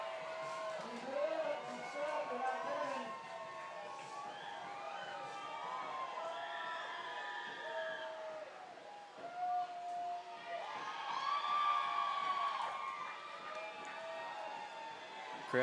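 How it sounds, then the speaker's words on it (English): A baseball crowd at a Spuds game makes a steady, distant roar of cheering and shouting for a left-handed batter, with rising swells and a few whistle-like calls. "Crowd making some noise trying to get behind Tyler Castelli."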